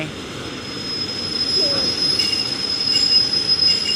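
A freight train rolls slowly past nearby at night with a steady high metallic wheel squeal over a low rumbling drone.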